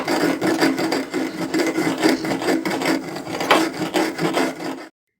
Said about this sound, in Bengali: যে মুগের ডাল আর বেসনটা ভেজে নিয়েছিলাম সেটা শিলে বেটে নেব